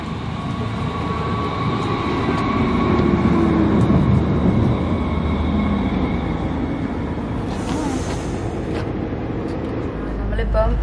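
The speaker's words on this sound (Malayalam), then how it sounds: "ട്രെയിൻ വരുന്നുണ്ട്, ട്രെയിനിൽ കയറാൻ പോവാ നമ്മൾ." A train bound for Kirchheim approaches a station platform near Stuttgart, a broad continuous rumble building and holding, with a hiss of brakes near the end.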